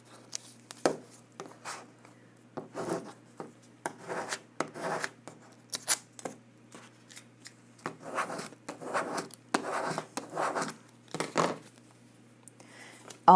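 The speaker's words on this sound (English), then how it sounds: "we'll use our squeegee and we'll burnish everything down so that it gets really good contact on the transfer tape" Squeegee burnishing cut vinyl lettering down onto transfer tape for an acrylic keychain blank, heard as a series of short, close scraping and rubbing strokes in irregular bursts, with no talking.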